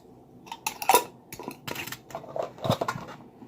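A lid being put on a small container of homemade vegan, gluten-free BBQ sauce: a handful of close, light plastic clicks and taps with short scraping rattles, spaced irregularly over a few seconds.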